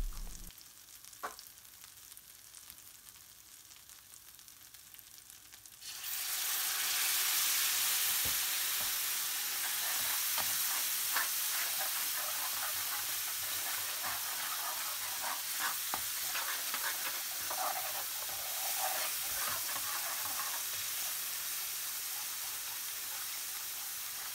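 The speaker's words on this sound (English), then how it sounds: "and sugar, and cook, stirring for 2 minutes." Curry base cooking with sugar, a loud, steady sizzle and hiss that starts abruptly and holds, with occasional scrapes and clicks of stirring, close by and without talk.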